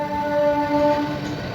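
DeekshaBhoomi Express train 11046 arrives at Pandharpur station. A steady, moderately loud rolling rumble carries sustained tonal horn-like notes, with no talk.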